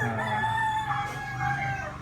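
A rooster crows in a long, drawn-out call, clear and moderately close, with steady outdoor background noise and no talking.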